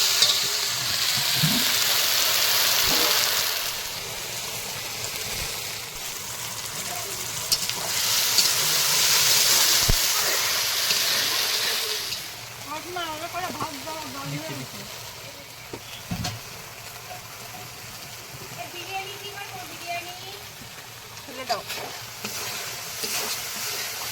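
Fish curry masala stir-fried in a pan for a big medh fish, steady sizzling and scraping with stirring strokes, louder in the first half and quieter later, close by with no talk.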